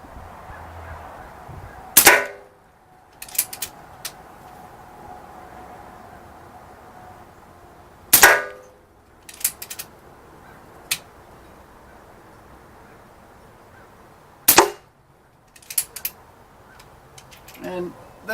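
A Diana Stormrider .177 PCP air rifle fires three sharp, loud cracks about six seconds apart, each followed by lighter clicks and taps of cocking and loading in a quiet setting.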